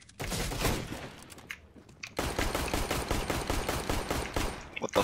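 Rapid pistol gunshots in a first-person shooter game fire in a dense, continuous volley, loud and close, broken by a brief lull before a second sustained burst.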